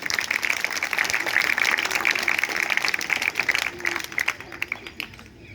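Loud, dense applause from an audience at a school welcoming ceremony, steady rapid clapping that thins into scattered individual claps before fading out.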